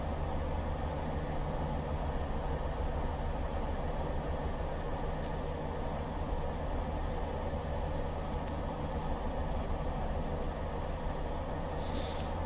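A Class 205 diesel multiple unit accelerates in Train Simulator Classic, with a steady, loud engine drone and rolling wheel rumble throughout and no talking.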